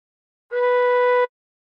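A single gently blown tin whistle note with all holes uncovered: one steady, clear, pure tone that holds for under a second, then stops cleanly, alone and with no talking.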